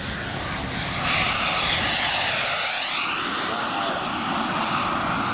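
Roaring turbine engines of a giant 1/5 scale RC English Electric Lightning F2A jet at a Weston Park model show, a loud sustained whine and rush that sweeps in pitch as it passes by.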